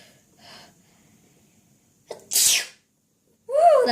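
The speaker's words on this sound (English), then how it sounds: "Woo, that was a big sneeze." A single big human sneeze, loud and close, with a quick sharp intake before it, then a short burst of voice after it in a room setting.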